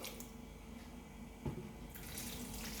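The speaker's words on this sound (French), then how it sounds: "On va arroser un peu tout." Water is sprayed over a snake terrarium, a soft hissing spray with a short sharp burst midway and a stronger fizzing spray near the end, quiet and close.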